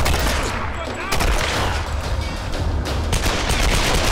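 Rapid bursts of automatic weapon fire in the video game Tomb Raider (2013), loud and continuous with dense crackling volleys and booming low end throughout.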